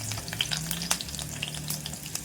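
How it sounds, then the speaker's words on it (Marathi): Eight to ten crushed garlic cloves fry in hot oil for dhaba-style lasuni methi, giving a steady close sizzle with scattered crackles and pops. "लसूण तेलामध्ये आपण चांगली अशी परतून घ्यायची आहे"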